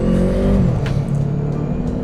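A QJMotor SRT450RX motorcycle engine runs while riding off-road, a loud close drone that holds steady and then eases into a lower, steadier hum, heard without speech.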